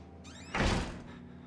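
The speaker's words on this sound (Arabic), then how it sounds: "اقفل الباب." Door being closed, a brief squeak of the moving door followed by a single dull thud, close and fairly loud with no talk over it.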